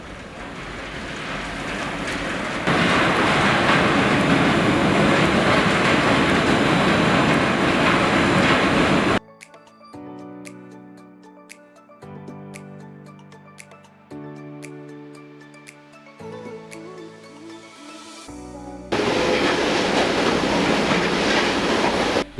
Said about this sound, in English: This trolley train runs up and down in the tunnel for workforce shifting and carrying the materials for TBM